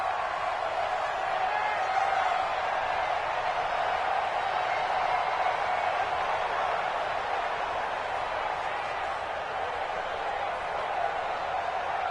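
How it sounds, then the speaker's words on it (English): Steady crowd roar fills a domed stadium during an NFL football game between the Saints and another team, a loud, continuous wash of massed voices with no breaks throughout. "The crowd here in the Dome making things difficult."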